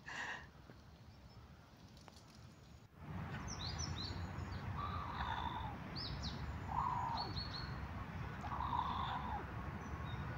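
A grey crow in the open gives several short, harsh calls at moderate distance, spaced out over a steady outdoor background hum, with a brief rustle before the calling begins.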